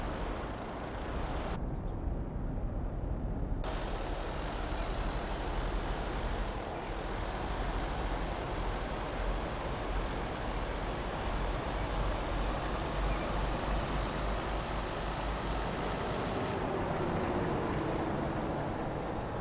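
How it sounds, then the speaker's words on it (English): An unusual-sounding plane passes overhead on a cold evening, a steady broadband roar that swells and fades as it crosses, heard alone with no talking. "That didn't sound like any normal plane."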